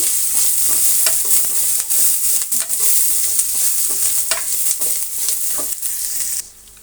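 Curry leaves and chopped green chilli pieces fry steadily in hot oil in a pan for a mix vegetable sambar, a loud continuous sizzle with scattered crackles and light stirring clinks, no voices.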